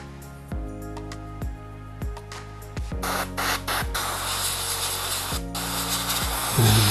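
An old-style Badger 200 airbrush on an airline sprays steadily, pushing out excess lubricant. A few sharp clicks come first, then a continuous close, loud hiss of air and spray takes over.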